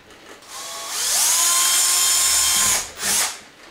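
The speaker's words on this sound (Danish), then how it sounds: "Og der skal vi lige have boret et hul i midten af den." A power drill bores a hole through the center of a square mounting piece during a home alarm installation. The motor whine rises, holds steady and loud for about two seconds, cuts off, then returns in one short burst, with no talk.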